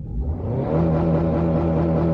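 The engine of a black Infiniti two-door coupe revs up over the first moment and then holds a loud, steady droning roar, with no talking.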